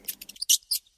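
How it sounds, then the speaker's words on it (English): A mouse gives a quick series of high, thin squeaks in short bursts, close and fairly faint, with brief gaps of silence between them. "Mouse."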